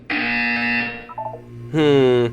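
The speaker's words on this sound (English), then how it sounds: "You will hear a buzzer" A loud electronic buzzer in the video game Portal 2, a sustained harsh tone that cuts off, then after a short gap sounds again in a second strong burst.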